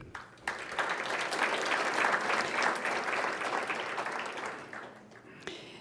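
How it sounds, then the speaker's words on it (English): Sustained audience applause at a scholarship gala, a dense wash of many hands clapping together for several seconds before tapering off, with a brief final burst near the end. "I'm maybe going to ask that we save the applause for the end."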